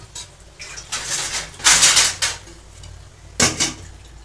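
Water splashes into a cooking pot for prawns with sorrel leaves and tamarind, then a lid clanks on, giving a couple of bursts of pouring and a sharp metal clatter near the mic with no talking.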